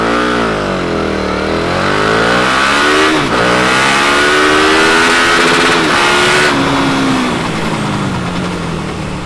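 A KTM Superduke 1290 R motorcycle accelerates hard from a standstill, its loud engine climbing through several gears with rising whine and brief drops at each shift, heard up close throughout.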